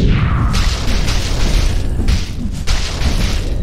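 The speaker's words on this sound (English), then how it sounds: "Dire's middle tower has fallen" A tower collapses in an explosion in Dota 2, a loud booming blast followed by rumbling crashes and bursts that continue for several seconds.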